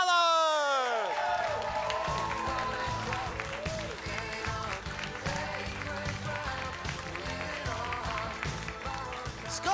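A studio audience gives sustained applause with scattered cheers and whoops as a guest musician is welcomed onto a TV talk show, loud and steady throughout, opening over the tail of a sung or sustained note.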